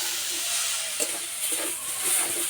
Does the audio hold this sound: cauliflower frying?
yes